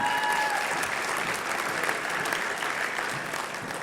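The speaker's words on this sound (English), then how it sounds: "a round of applause for the graduates from the Public Relations program" Sustained applause from a convocation audience at a Humber College fall ceremony, honouring Public Relations graduates; a broad, even wash of many hands that eases slightly toward the end.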